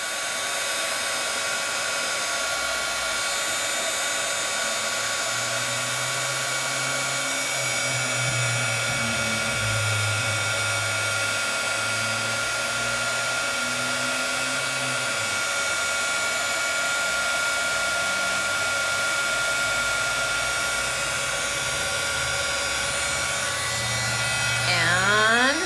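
A heat gun blows a steady, loud whirring hum over embossing powder on tape, running continuously throughout with a faint voice underneath.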